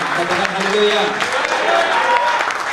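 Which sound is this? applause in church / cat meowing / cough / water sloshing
applause in church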